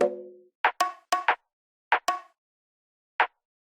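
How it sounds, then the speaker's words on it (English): Two bongos layered together in a beat tap out a sparse, syncopated run of bright hand-drum hits after a brief low tone, fairly quiet and with no voices. "I layered two bongos together and they sound like this."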